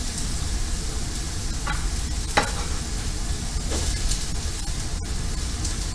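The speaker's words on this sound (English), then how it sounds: "We got a little sizzle." Onions sizzle in hot oil in a soup pan, a steady close frying hiss with occasional crackles and faint stirring, no voices.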